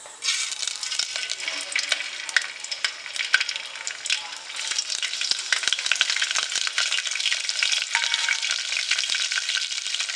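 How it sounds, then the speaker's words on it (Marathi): Mustard seeds and asafoetida crackle in hot oil for a Maharashtrian misal tempering, a close, dense, steady sizzle peppered with sharp pops and ticks throughout, with no voices. "फोडणी तडतडते"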